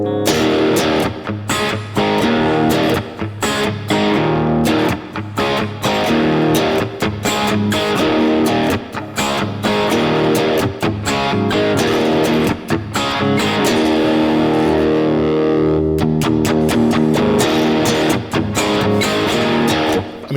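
Loud, continuous distorted electric guitar riff played as a tribute, chugging chords with rhythmic stops and restarts, close and alone for the whole stretch.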